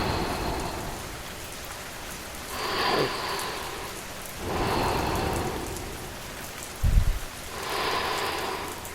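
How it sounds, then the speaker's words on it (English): Steady, gentle rain falling on a surface during a calm night storm, a soft continuous hiss that swells in several broad waves, with a brief low thump near the end. "The rain continues."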